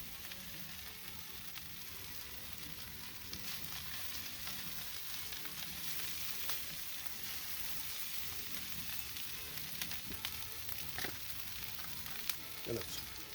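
Beef fried rice sizzles on a griddle over a Big Green Egg in a steady, crackling fry, with occasional scraping and tapping of a spatula and no talk.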